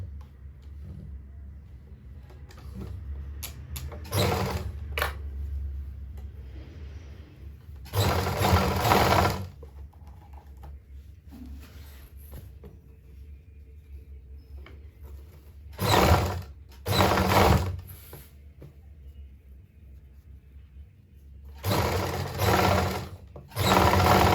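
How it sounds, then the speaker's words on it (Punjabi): Sewing machine running a basting seam on a lined suit, with short and longer bursts of rapid, loud mechanical stitching separated by quiet pauses and small handling noises. "ਉਹਦੇ ਉੱਪਰ ਆਪਾਂ ਕੱਚੀ ਸੀਨ ਲਾ ਲਾਂਗੇ ਇੱਕ ਵਾਰ"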